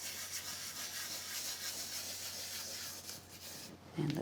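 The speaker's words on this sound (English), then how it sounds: "Just move it around with my finger and burnish it in." A fingertip rubs and burnishes Creative Expressions Diamond Snow glitter onto a sticky card surface, a soft continuous scratchy swishing close by, ending with a brief louder bump.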